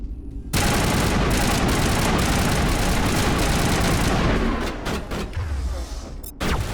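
Heavy automatic gunfire from a firefight in the Mass Effect video game erupts suddenly and roars continuously for several seconds, then breaks into scattered bursts and thuds as it tapers off.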